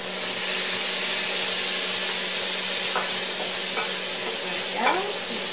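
Lamb pieces go back into a pot of Moroccan stew with lemon and spices, giving a constant low sizzle and steamy hiss, with a few soft stirring scrapes and clinks near the end.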